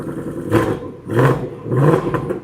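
A Ford Mustang engine with quad-tip exhaust in normal mode revs three times in a row, each rise a deep, throaty rumble that swells and falls back, heard up close with no talking.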